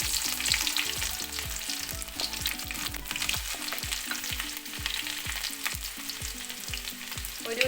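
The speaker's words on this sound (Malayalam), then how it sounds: "ഇതിലേക്ക് വെളുത്തുള്ളി ചേർത്ത് കൊടുക്കുന്നു" Garlic fries in hot oil with mustard seeds, a loud, steady sizzle broken by soft scraping and stirring in the pan.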